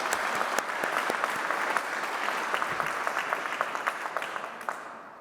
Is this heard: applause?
yes